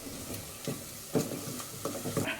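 A spoon stirs coriander and amchur powder into chana masala in a pressure cooker, giving irregular scraping strokes over a light, steady sizzle, close up and with no talking.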